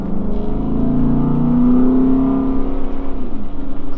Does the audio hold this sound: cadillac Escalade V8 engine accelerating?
yes